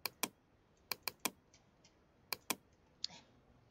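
Computer keyboard keys pressed in short clusters, crisp close clicks with pauses between, quiet and alone, as a Ctrl+T shortcut is typed.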